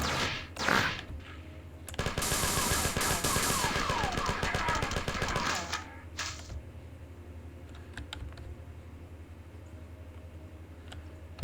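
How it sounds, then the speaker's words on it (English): Rapid bursts of assault rifle fire in the classic Marathon video game, a dense loud volley lasting several seconds, preceded and followed by scattered single shots and quieter game sounds. "Oh, right, that's just an assault rifle."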